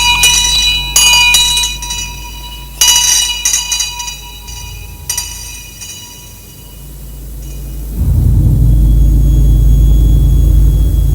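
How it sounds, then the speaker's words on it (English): St. Sepulchre's church bell tolls in London with ringing, resonant strokes over a deep rumble, giving way to a loud, sustained low roar. "when St. Sepulchre's bell in the morning tolls"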